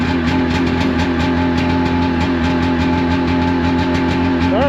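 A Sea-Doo Speedster jet boat engine idles steadily and close by, a constant low rumble with no talking.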